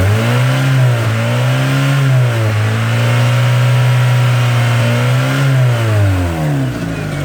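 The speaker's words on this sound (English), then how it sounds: "Engine fired right up." A Mazda MX3 engine idling and running after firing up, a steady close, loud mid-pitched hum with slight rises and dips in revs, no talk.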